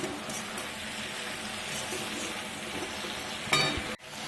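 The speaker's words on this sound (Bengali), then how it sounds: "এবার নুন দিয়ে নেড়ে চেড়ে ঢাকা দিয়ে দেবো যাতে জলটা মরে যায়। জলটা মরার পরে একটু আর একটু ভাজবো।" Spring onion stalks fry in a pan with salt, giving a steady sizzle with spatula clinks and scraping, a sharper clatter of stirring near the end before a brief break.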